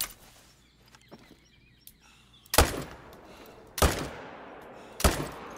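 Three loud, sharp rifle shots ring out about a second apart in the hunting game theHunter: Call of the Wild, each with a short decaying tail, following a quiet stretch of faint birdsong and small rustles.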